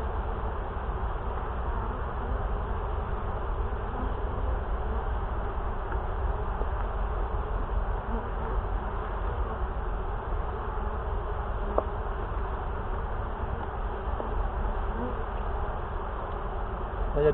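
Honeybees buzz in a steady, dense drone throughout a hive inspection in a field at Lançon-de-Provence, with frames of capped honey and nectar being handled; the swarm hum stays continuous and fairly loud, with faint occasional background sounds.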